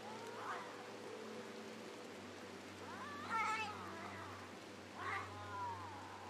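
A cat in the video game RimWorld yowls and caterwauls a few times over a steady low hum, the drawn-out wails rising and falling, somewhat distant and muffled.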